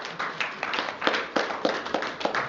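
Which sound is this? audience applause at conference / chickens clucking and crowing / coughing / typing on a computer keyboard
audience applause at conference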